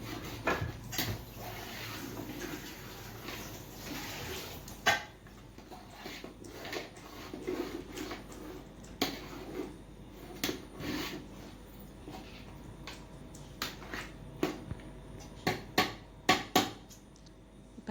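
Mutton biryani masala ingredients are stirred in a pot with a spoon, giving quiet scraping and rubbing with scattered sharp knocks against the pot, close by and without talk.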